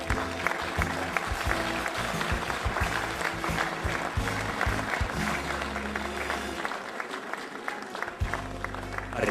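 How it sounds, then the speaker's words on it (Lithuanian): Audience applause at a Lithuanian Independence Day (February 16) ceremony, 2012: sustained clapping from a crowd, dense and steady throughout with some low rumble. "Plojam, plojam."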